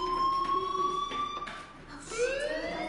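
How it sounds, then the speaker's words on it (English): A school fire alarm rings in the Life is Strange video game, a steady electronic tone with shifting pitch that sounds continuously and loudly throughout, with no talking. "Hey, do you hear that fire alarm?"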